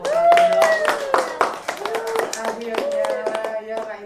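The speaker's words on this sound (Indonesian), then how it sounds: "tepuk tangan dong" Audience clapping at a Banjar regional election talk event, a scattered run of hand claps heard mixed with overlapping voices and talk throughout.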